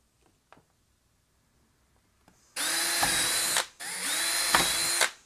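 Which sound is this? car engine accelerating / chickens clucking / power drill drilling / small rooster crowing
power drill drilling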